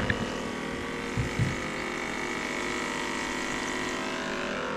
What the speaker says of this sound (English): these bubblers agitate the water inside